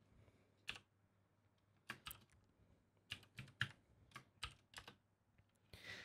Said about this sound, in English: I'm not gonna cut any kind of this typing, so you can see what I'm doing.